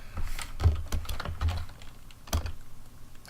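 Close typing on a computer keyboard: a quick run of irregular key clicks with a few heavier thumps, steady and alone without speech.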